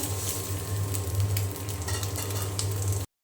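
Egg yolk frying in a pan, giving a close, continuous sizzle with crackling spits and a low steady hum underneath, ending abruptly.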